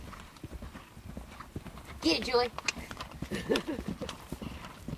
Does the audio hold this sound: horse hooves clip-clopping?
yes